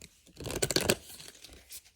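A deck of tarot cards is shuffled close up in a short burst of papery riffling and crinkling that lasts about half a second before fading to quiet handling.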